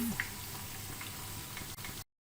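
Chicken pakora fries in hot oil with a soft, steady sizzle and scattered little pops, faint and close, ending abruptly.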